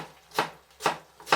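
A knife slicing an onion into thin strips on a cutting board, three crisp, evenly spaced chops close up with quiet pauses between.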